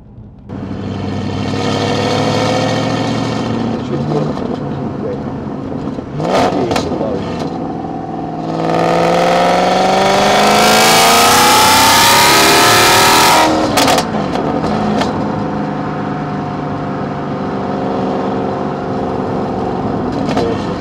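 A 2006 Maserati Quattroporte 4.2 engine and exhaust rev loudly and close, climbing and falling in pitch through a long central surge, with short blips before and after.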